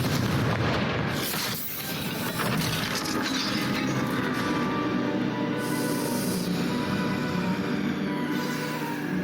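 A Confringo fire spell explodes in Hogwarts Legacy with a loud blast followed by a long crackling, rumbling tail and scattered debris hiss that fade over several seconds.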